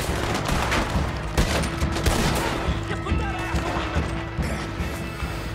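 Gunshots ring out in a Red Dead Redemption 2 game scene, a few sharp cracks over a steady bed of game sound and background noise, with a voice faintly present.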